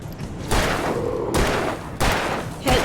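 Gunfire in the video game Alan Wake: three loud, sharp gunshots spaced about a second apart, each trailing off in a short echoing decay, with no talk.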